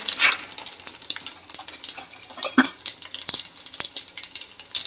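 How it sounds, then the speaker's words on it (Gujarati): Mustard seeds and cumin crackle and sizzle in hot oil as a Gujarati tempering for handvo, with rapid irregular pops and spits over a steady frying hiss, close and fairly loud, no talking. "રાઈને છે ને આપણે ફૂટી જવા દેવાની પહેલા પૂરેપૂરી"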